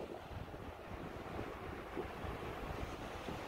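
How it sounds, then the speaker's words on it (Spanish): Steady wash of sea waves at a beach, continuous and fairly loud, with wind buffeting the microphone and no talk. "Que hemos llegado a la playa."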